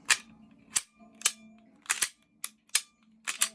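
Pistol trigger dry-firing during a firearm disassembly and reassembly, giving about seven sharp, crisp clicks spread irregularly over a few seconds, close and clear with no talk.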